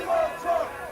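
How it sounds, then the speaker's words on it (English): A crowd surging at an ad hoc political rally march, a mass of distant voices rising in two brief shouted swells before easing off. "There's a crowd surge heading east."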